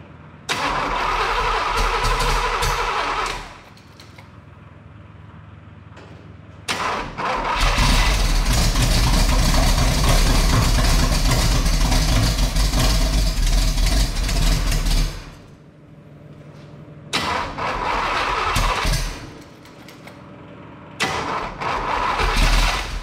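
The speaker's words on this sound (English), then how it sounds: "This is a small block Chevy. This shouldn't be this hard to start." A small block Chevy V8 in a Ford Model T hot rod, struggling to start with suspect ignition points, cranks and catches in loud bursts, runs roughly for several seconds, dies, then cranks again.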